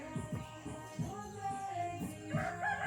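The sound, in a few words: chickens clucking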